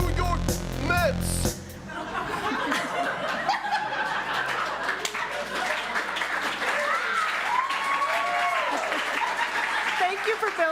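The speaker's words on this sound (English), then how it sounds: "Thank you for building up the applause." Audience applause at a Monday musical show, sustained clapping mixed with laughter and chuckles from the crowd, with a loud burst at the start and some voices talking and calling out over it.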